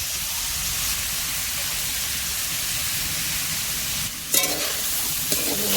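Chopped onions hit hot oil in a pan while cooking bamboo shoots with prawns, giving a loud, steady close-up sizzle with a brief burst of crackling partway through; no one speaks.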